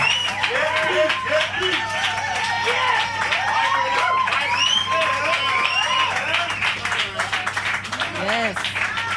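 Audience at a live evening worship event breaks into sustained clapping and applause, a dense crowd wash filling the whole stretch while a voice talks over it.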